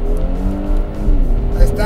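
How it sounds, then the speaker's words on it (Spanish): A Kia Stinger GT accelerates hard as its turbos spool up, with a loud, close engine roar that holds a steady drone and rises slightly toward the end. "Entran los turbos."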